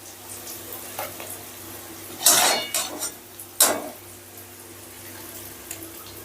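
Fried potatoes are lifted out of hot oil in a pan, bringing a couple of bright scraping, clattering spatula strokes over a low background sizzle, close up with no voices.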